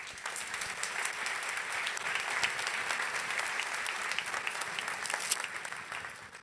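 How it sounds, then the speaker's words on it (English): An audience at a tech conference party keynote applauds, a moderately distant, even spread of clapping with a few sharper individual claps, lasting several seconds. "Give her a round of applause."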